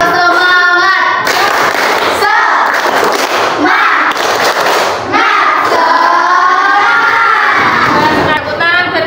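A classroom of children in an Islamic school lesson performs the rhythmic 'tepuk semangat' clapping chant, loud group chanting with shouted bursts and patterned claps throughout, voices close and energetic.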